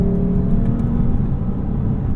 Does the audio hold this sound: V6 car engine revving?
yes